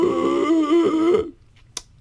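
A voice sings low notes while inhaling, making a rough, buzzy, wavering ingressive tone for just over a second before cutting off into quiet with a faint click.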